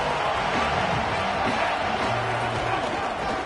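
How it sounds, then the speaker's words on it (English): A stadium crowd in an NCAA football video game roars steadily and continuously, a dense wash of cheering with no break. "this crowd giving this defense some juice"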